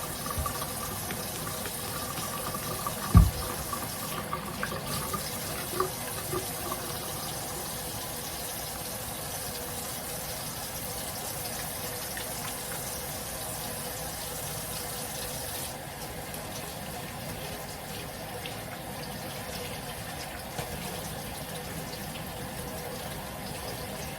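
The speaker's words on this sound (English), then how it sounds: "we're going to wash our hands. We have our antibacterial soap." Water runs steadily from a kitchen tap over soapy hands being washed with antibacterial soap, a continuous close hiss of flow with a few faint knocks and splashes, no talking.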